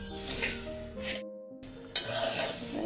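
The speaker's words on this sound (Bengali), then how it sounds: "শুধু লাড়াচাড়া করতে হবে, কিন্তু না হলে নিচে দিয়া পোড়া লাগিয়ে যেতে পারে।" Puffed rice being stirred in a hot pan, with scraping, rustling bursts up close, a brief pause midway, then stirring resumes more loudly.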